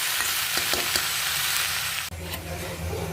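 Spinach fries with egg in a pan, sizzling steadily with several stirring scrapes; the frying hiss drops sharply partway through, leaving a quieter, lower sizzle.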